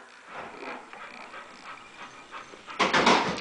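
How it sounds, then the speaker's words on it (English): A dog vocalizes back in a whiny, talkative way, a rising, grumbling whimper that is close and moderately loud, ending in a louder, brighter yowl. "The dog that talks back."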